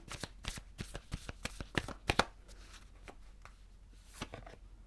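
Oracle and tarot cards riffled and shuffled by hand at close range, a quick run of crisp flicking snaps that slows and thins out toward the end, with no talking.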